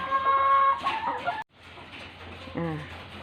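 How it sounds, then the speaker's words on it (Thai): Chickens on a school poultry farm cluck and squawk close by, a busy run of calls broken by a short gap, with someone talking over them. "ไก่ วันนี้อาจจะตื่นเต้นนิดนึงนะคะ"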